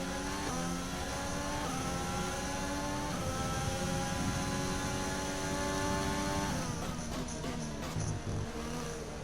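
Screaming F1 race car engines in the F1 2020 video game, a loud sustained high-revving drone with gear shifts and rising pitch, other cars close by.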